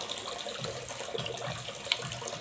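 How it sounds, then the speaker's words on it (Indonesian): Water runs steadily from a tap outdoors, a continuous soft splashing and trickling at moderate distance with a faint click partway through. "ini ada suara air yang mengalir, air dari keran"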